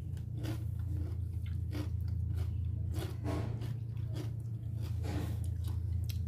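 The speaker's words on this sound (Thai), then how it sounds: "ผลไม้กินมะม่วงสุกไอ้มะม่วงสุก" Someone bites into and chews ripe mango close up, a run of wet, squishy bites and chews repeating in an irregular rhythm over a steady low background hum.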